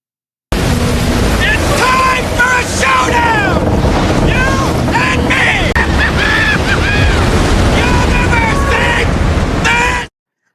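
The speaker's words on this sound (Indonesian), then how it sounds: "Sampai suatu hari badai besar menghantam wilayah pesisir." A big storm striking a coastal area with shrimp boats, continuous loud roaring wind and crashing waves, layered with dramatic sweeping effects and tonal swells in the background.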